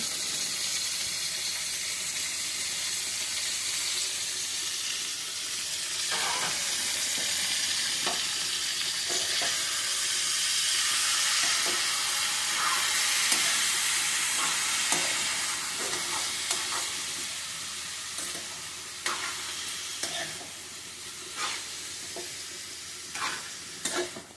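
Chicken curry sizzles and fries in a pan while a spatula stirs it, giving a steady hiss broken by repeated scraping clacks that grow more frequent toward the end.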